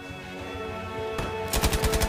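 Machine gun fire in Battlefield 5, a sudden blast followed by a rapid burst of close, loud shots over a steady tonal background, no voices.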